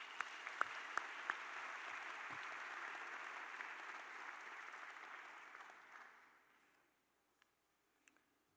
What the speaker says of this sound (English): Please give your valedictorian another round of applause.